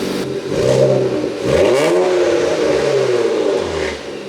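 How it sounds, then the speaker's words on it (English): An Infiniti Q50 Red Sport with a straight-piped exhaust revs loudly and close by. The engine note swells up and falls away once, then holds a raspy, droning idle. "It has a really good tone to it now, and I'm excited to hear it rev."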